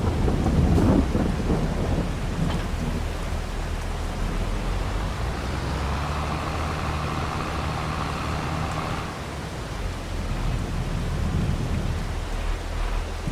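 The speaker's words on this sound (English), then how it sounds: "It should stop raining soon" Rain falls steadily in Farming Simulator 22 while rolling thunder rumbles loudly near the start and swells again toward the end, a dense continuous downpour with no voices.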